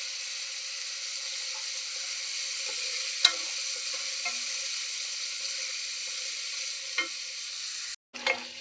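Chopped green chillies fry on low heat in a pan, giving a steady soft hiss with occasional light stirring knocks and one sharp tap, before a brief cutoff near the end; no voices.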